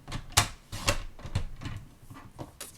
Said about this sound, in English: So we're going to cut it to 1/2 inch wide.